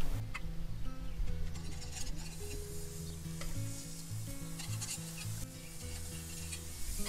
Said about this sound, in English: And then I'm gonna start putting my burgers on there.